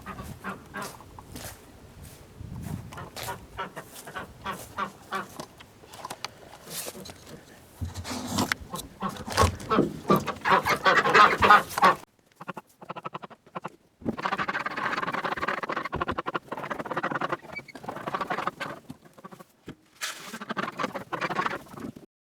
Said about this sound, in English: I'm gonna put my chickens out back